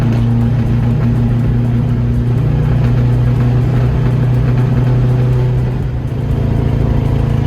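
A Nissan Sunny pickup truck's engine drones loudly and continuously while accelerating in fourth gear, running slightly rough from a mild misfire under load.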